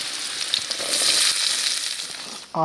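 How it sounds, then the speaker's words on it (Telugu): Onions fry in a pan for an egg omelette curry, making a steady hissing sizzle for over two seconds before a brief tonal sound cuts in at the end. "ఇప్పుడు ఎర్రగడ్డలు అయితే వేసేసింది. అది బాగా మగ్గాలంట, బాగా మగ్గిపోవాలయ్యా."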